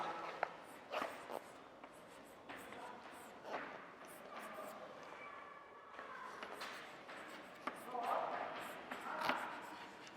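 Quiet scratching of a pen writing on paper, short strokes and taps in an irregular rhythm, with faint background noise and no clear talk over it.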